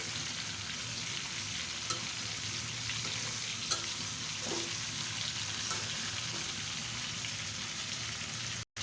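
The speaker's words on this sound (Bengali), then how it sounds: "মাছগুলো বেশি কড়া করে ভাজবো না, এইভাবে ভেজে নিচ্ছি।" Continuous crackling sizzle of pangas fish frying in oil, with a few faint clinks and stirring sounds near the pan, no voices.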